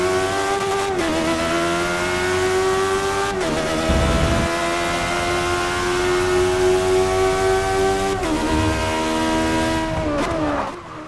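Caparo T1 race car engine in Forza Motorsport 6, screaming loud and steady at high revs with shifts and throttle lifts near 1, 3.5 and 8 seconds, ending in a final downshift blip.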